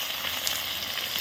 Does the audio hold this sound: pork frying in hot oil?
yes